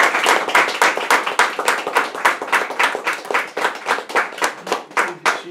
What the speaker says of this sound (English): Could we all give Peg a round of applause for what she did?